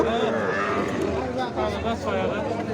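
Sahiwal cattle at a busy cattle market low steadily amid a dense crowd, their calls mixed into loud continuous chatter and haggling voices close by.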